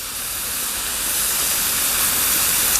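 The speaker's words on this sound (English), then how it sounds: "And you see that we're steaming the vegetables now." Vegetables and chicken steam on a yakisoba griddle at an outdoor catering setup, giving a steady, loud broadband hiss that swells slightly over time with no voices.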